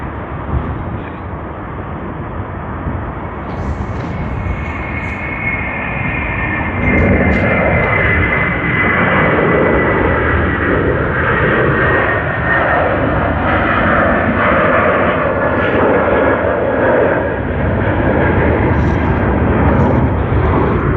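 A jet airliner on the runway at Sydney Airport, with a broad, steady engine roar that swells louder after a few seconds and holds for about twenty seconds.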